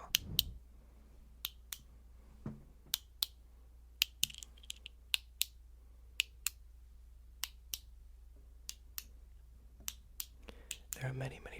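Sharp, isolated clicks spaced irregularly across a quiet background, each crisp and close, like a pen being clicked repeatedly.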